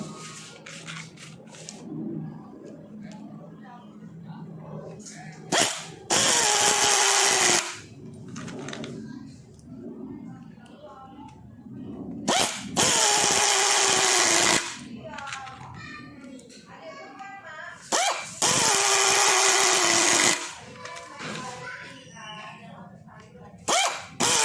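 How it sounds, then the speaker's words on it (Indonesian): A DCK air-powered screwdriver driving ordinary screws, heard in three loud, sustained pneumatic whirring bursts of a few seconds each, separated by stretches of nearby talk and handling noise. "Untuk uji performa saya akan coba menyekrup menggunakan sekrup dengan ukuran yang biasa ya."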